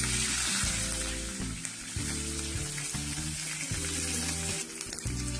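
Green chillies frying with cumin and mustard seeds in oil for South Indian khara pongal, a steady close sizzle under a low humming tone, with a few light stirring knocks.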